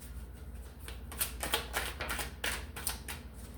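Tarot cards shuffled and drawn from the deck, a run of quick papery riffles and flicks close up, with no talking.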